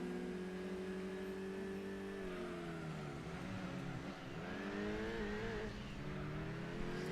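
Race car engines drone and rev in Gran Turismo 2 on a track shared with muscle cars, a continuous close engine roar that rises and dips in pitch as the car struggles to accelerate among rivals.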